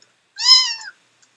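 A cat gives one clear, close meow lasting about half a second, rising then trailing off, alone against near silence during a Minecraft play session.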